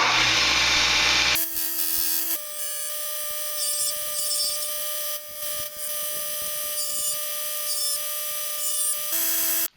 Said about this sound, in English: We're using a coarse grit sanding disc.